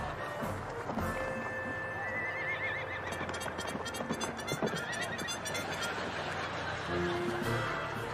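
A horse at a Japanese wedding whinnies in a long wavering neigh, with hooves clip-clopping and some scattered background noise and laughter around it.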